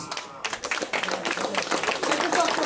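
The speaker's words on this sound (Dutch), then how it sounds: "Dames en heren, een groot applaus voor deze twee strijders." Audience applause for two kickboxing fighters at a kickboxing event, dense, sustained clapping that stays loud throughout, with crowd noise and voices mixed in.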